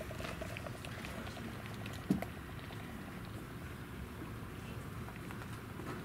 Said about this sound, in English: so I will pour hard the soda.